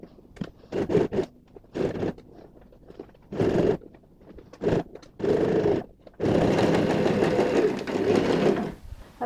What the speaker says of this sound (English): put a top stitch so that the raw edges are all binded together